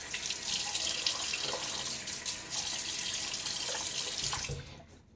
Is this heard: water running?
yes